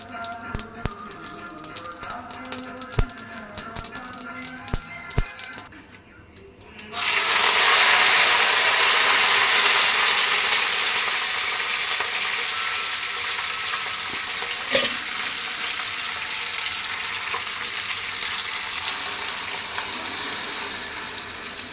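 Mustard seeds tempering in hot oil for mint chutney start a loud, steady, close sizzle that holds to the end, after a few seconds of light clicks and handling.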